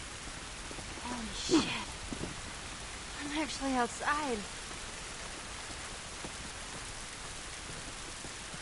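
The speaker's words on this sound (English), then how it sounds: "This rain ain't gonna do us any good." Steady rain hisses throughout in The Last of Us game, a continuous soft wash of noise under someone talking a few times.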